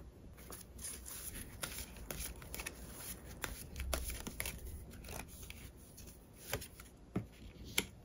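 Tarot cards are shuffled by hand, with a steady run of soft riffling and sliding card rustles and occasional sharper snaps, close up and without speech.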